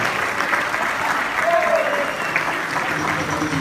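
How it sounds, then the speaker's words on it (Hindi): Loud, continuous applause from a conference crowd in Patna, Bihar rolls on evenly throughout, with a voice faintly audible beneath the clapping. "जोरदार तालियों के साथ"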